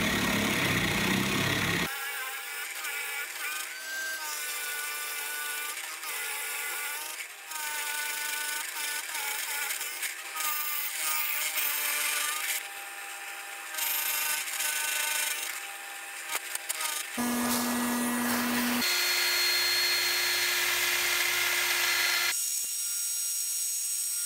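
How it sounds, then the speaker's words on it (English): A large Forstner bit in a drill bores out material from a wooden beam, producing a loud, continuous grinding whine. The steady cutting is broken by brief pauses, and the pitch shifts as the bit bites deeper. "I'm going to take out most of the material with a large Forstner bit"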